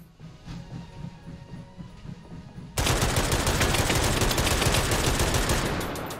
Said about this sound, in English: I don't know what to classify this, a light machine gun?